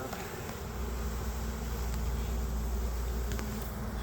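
Honeybees in a hive at a small-scale queen-rearing yard in Southern Colorado give a close, steady, dense buzzing hum that holds evenly throughout with no talk.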